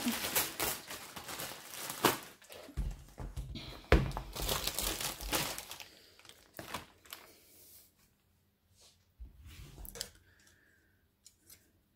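Someone opens a customs-taped parcel from AliExpress holding a diamond painting kit, with loud bursts of crinkling and tearing packaging and sharp clicks, then quieter scattered rustles as the handling settles.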